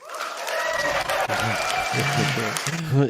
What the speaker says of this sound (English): did you hear that loud applause there at the end there, Greg?